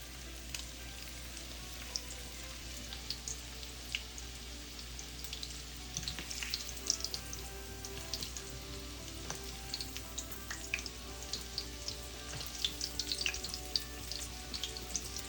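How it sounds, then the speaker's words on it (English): Pork schnitzel frying in hot oil, a dense crackling sizzle with constant popping spatter that holds steady and close throughout. "you're gonna fry these until they're brown on both sides"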